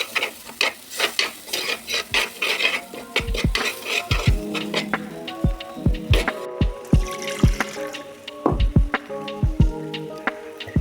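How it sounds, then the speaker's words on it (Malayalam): Kudampuli tamarind water poured into a boiling tuna fish curry masala in a pan, giving wet splashing and bubbling with sharp clinks and knocks against the pot, close and steady over about ten seconds, with no talk. "നമ്മൾ കുടംപുളിയിൽ വെള്ളത്തിൽ ഉതിർത്ത് വെച്ചിരിക്കുന്നതും ഒഴിച്ച് നമ്മൾ തിളപ്പിക്കും."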